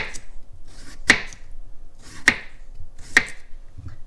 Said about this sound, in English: And we cut around the cucumber.